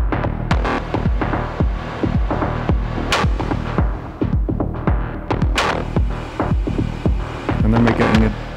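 Pulsing synth notes with a long, frozen reverb tail that hangs and smears beneath them, loud and steady with no voices.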